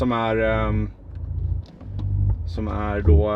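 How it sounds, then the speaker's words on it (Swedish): An electric car's synthetic combustion-engine sound, the Ignition mode, plays at a car expo: a loud, buzzy revving tone with harmonic overtones rises, drops to a low rumble with small crackles, then revs again. "som ska simulera ett vanligt ljud från en förbränningsmotor"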